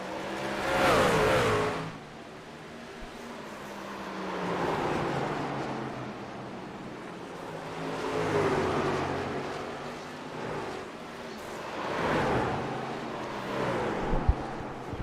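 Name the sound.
race cars revving at Nashville Fairgrounds Speedway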